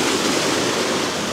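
Waves wash over a rocky shore at sunrise, a close, loud, continuous roar of churning surf with no pauses or voices.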